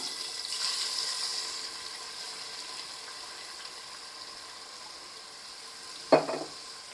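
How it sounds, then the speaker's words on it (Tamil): A large chopped onion is added to garam masala in a pan for vegetable biryani, giving a faint, soft sizzle that fades over the first few seconds; a single sharp metallic clink comes near the end. "இப்போ நம்ம வெட்டி வச்சுருக்கிற ஒரு பெரிய வெங்காயத்தை சேர்த்துடலாம்"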